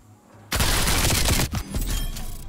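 A loud artillery barrage in a video game: dense overlapping blasts and gunfire burst in suddenly after a quiet moment and keep rumbling for about two seconds, with a brief dip partway through.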